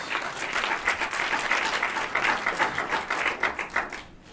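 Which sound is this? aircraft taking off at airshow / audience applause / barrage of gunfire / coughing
audience applause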